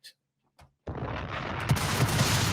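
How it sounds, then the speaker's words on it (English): Bomb explosion and shotgun shots in a video game: two short faint clicks, then a sudden loud blast that rolls into sustained rumbling with a few heavy thuds, close and intense. "A bomb and a couple shotgun shots."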